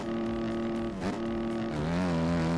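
A Suzuki motocross bike engine in the MX Bikes video game holds high revs near the limiter, a steady buzzing drone that briefly dips and then climbs again, loud and close.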